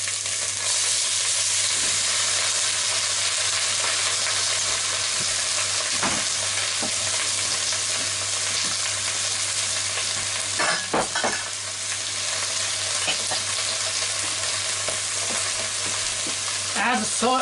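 Shirataki noodles sizzle steadily in a hot frying pan while a utensil stirs them, with occasional scraping and clinking against the pan over continuous hiss.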